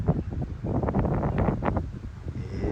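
Chilly wind gusting across an Appalachian Trail viewpoint in Shenandoah National Park, a low rumbling buffet on the microphone with rustling bursts that rise and ease in uneven surges.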